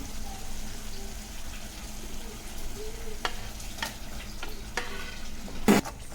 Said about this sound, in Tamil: கொஞ்சம் மெதுவாக கிண்டி விட்டுட்டே இருங்க